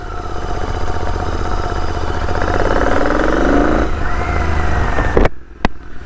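A Royal Enfield Interceptor 650 fitted with alloy wheels runs nearby on a road test, its twin-cylinder engine droning steadily and rising in pitch as it revs, before the sound cuts off abruptly near the end.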